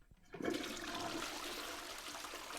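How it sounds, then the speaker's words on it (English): A toilet flush sound effect roars up abruptly and holds as a loud, steady rush of swirling water, with no voices over it. "Toilet flush crop fade out?"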